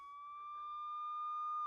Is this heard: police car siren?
yes